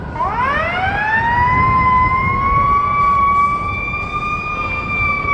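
A loud fire truck siren wails on a Manhattan street during a protest, rising from a low start and settling into a sustained, steady tone, holding strong throughout with a faint rumble of traffic beneath.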